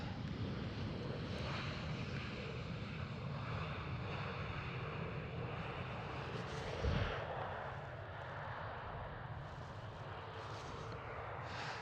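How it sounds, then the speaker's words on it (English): A British Airways CityFlyer Embraer E190 airliner passes by at Amsterdam Schiphol airport as a distant, steady roar mixed with wind noise, holding at a low level throughout. "British Airways City Flyer. E190 passing by right now."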